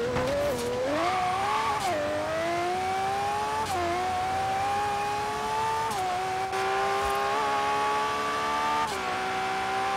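A Lamborghini Murcielago Super Veloce roars in the Forza Horizon 3 racing game, its engine tone climbing and dipping through gear shifts with turbo whine, continuous and loud.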